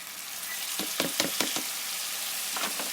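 Frozen tomatoes hit hot oil with browned onions in a pan, a loud steady sizzle with a few sharp spoon knocks and stirring scrapes, no talk.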